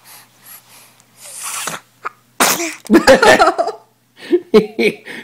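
A sharp, close sneeze bursts out amid soft breathy sounds, followed by laughter and chatter from people nearby.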